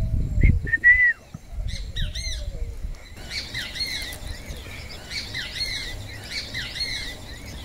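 Outdoor tyrant flycatcher calls in the Amazon rainforest of French Guiana repeat in short, bright squeaky phrases, faint at first then steady and moderately loud against low background rumble.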